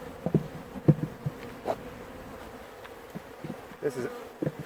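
Honeybees buzz around an opened hive in July, in quiet scattered bursts as individual bees fly close past, with low background hum between.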